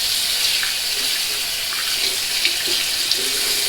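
A tap runs loud and steady into a sink as a shaved head is rinsed, the gush of water broken only by faint splashes.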